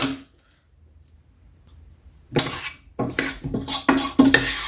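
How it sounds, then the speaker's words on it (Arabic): Rice stirred with seasoning and ghee in a metal pot, a quiet pause followed by repeated scraping and clinking of a spoon against the pot, close and distinct. "كنخلط الرز مع المقادير حتى كينسجموا مزيان"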